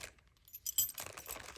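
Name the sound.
old skeleton keys jangling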